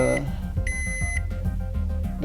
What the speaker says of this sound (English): you hold the timer until you hear the beep or the tone